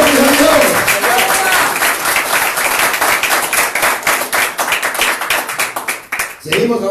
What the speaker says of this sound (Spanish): Si quiere aplaudir, aplaudan también.